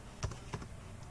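Computer keyboard typing while an account number is entered during an income tax filing, a few quiet, distinct key presses spaced out in a short burst, close to the microphone.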